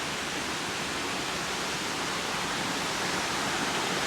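River water pours over a weir in South Wales, making a continuous, dense broadband rush that holds steady throughout without a break, with no voices over it.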